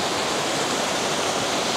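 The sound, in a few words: water rushing near Lake Louise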